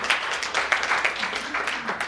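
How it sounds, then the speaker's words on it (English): An audience at a sold-out workshop event claps, a short burst of uneven, moderately close applause with a voice talking over it. "Let's give the man a round of applause."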